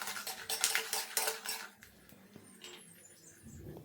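Peanuts, urad dal and chana dal frying in oil in a pan make close, clattering rattles and scrapes as they are stirred, busy at first and then giving way to quieter sizzling and light tapping.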